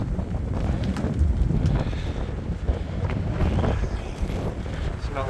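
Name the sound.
headwind while cycling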